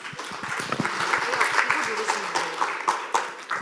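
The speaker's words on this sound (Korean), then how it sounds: "박수로 모시겠습니다" A room full of people at a forum in Busan, South Korea, applauds, steady overlapping claps of moderate loudness continuing throughout.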